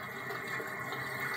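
A household toilet flushes in a steady rushing wash of water, moderately faint and with no talk over it.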